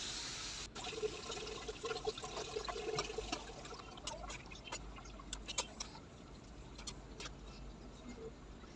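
Water used to rinse a bowl of ground mustard, cumin and green chilli paste is poured into a cooking pot, a faint trickle and splash near the start, followed by quiet clinks and small knocks of kitchenware.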